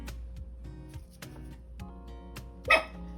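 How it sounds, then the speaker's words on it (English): A Chihuahua gives a single sharp, high yip near the end, close and brief, over a faint steady background tone. "I have a Chihuahua"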